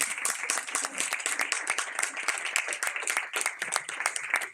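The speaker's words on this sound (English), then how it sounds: "I'd love to give our amazing sisters a round of applause" An audience at a panel discussion gives a round of applause, dense and continuous clapping from many hands, fairly close and even throughout.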